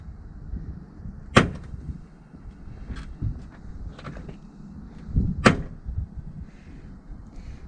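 A van's driver-side door being opened: sharp metallic clunks and a latch click stand out against a quiet background, with a few softer knocks between them.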